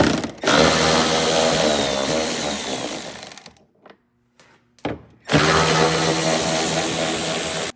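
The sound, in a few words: power tool removing fender flare fasteners on Jeep Defender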